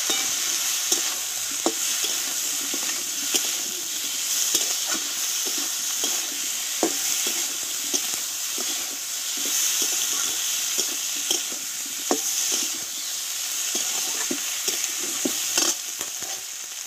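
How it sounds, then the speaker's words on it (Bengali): Spice paste for a tilapia fish curry with drumsticks sizzles and fries in a pan, stirred steadily with scraping clinks throughout, close and continuous with no talking. "একসঙ্গে মশলাটা ভালোভাবে একটু কষিয়ে নেব।"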